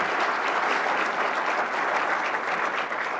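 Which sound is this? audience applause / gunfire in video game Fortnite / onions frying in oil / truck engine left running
audience applause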